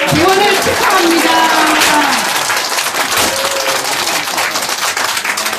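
A congregation claps in a loud, dense burst at the opening service of Gwangmyeong prayer house on Dobongsan, and the applause holds steady with voices mixed in.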